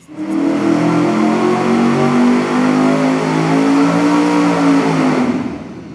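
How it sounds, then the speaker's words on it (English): An engine on a test stand exhaling through a Summit turbo muffler with a crimped outlet, revving loud and close in one sustained, even roar for about five seconds before cutting off abruptly. "we've got the Summit regular turbo on here now, the just crimped muffler"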